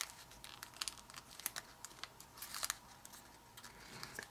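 Paper folded by hand for an origami jumping mouse makes faint, close crinkles and sharp creasing ticks in an irregular run, with no talk.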